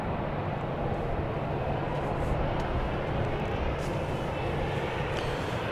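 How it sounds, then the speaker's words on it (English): A Boeing 737-800 airliner arriving at Dallas Love Field at night, a steady broadband jet engine roar that holds constant and fairly loud throughout. "Here comes flight 3557 from Orlando, Florida. 737-800"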